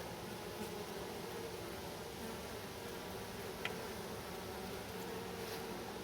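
Honey bees buzz in a nuc hive as a faint, steady hum with a constant airy hiss and no voices.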